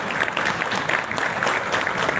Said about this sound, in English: A big round of applause, sir.